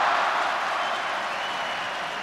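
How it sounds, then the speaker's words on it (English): Football stadium crowd at an Olympic match between Argentina and Paraguay, a broad distant murmur of thousands of spectators, steady and fairly loud with a slight fade, no distinct cheer. "Crowd a little frustrated."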